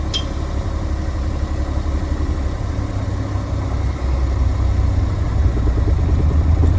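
A car's engine idles in reverse as the clutch is slowly released with the brake held, producing a steady, close low rumble and vibration that grows slightly heavier partway through.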